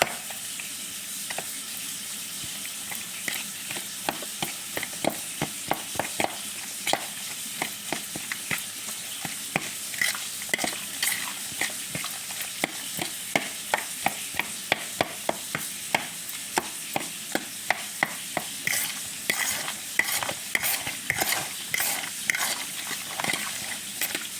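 Canned chunk light tuna sizzles and fries in a pan while a utensil stirs and scrapes it, giving a steady close crackle broken by many rapid clicking taps against the pan.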